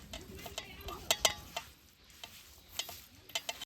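Oil being stirred into a spice masala stuffing for gunda (glueberry) curry, giving soft scraping and stirring strokes with a few sharp clinks of a spoon against the bowl, close and fairly quiet with no talk.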